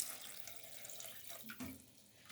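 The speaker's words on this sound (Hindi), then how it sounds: "और अब मैं इसमें ये थोड़ा सा पानी डाल के इसको 10 मिनट तक मैं पकाऊंगी।" A little water poured into a pot of chicken curry, a close splashing trickle that runs steadily, thickens briefly near the end and ends with a small clink, with no talking.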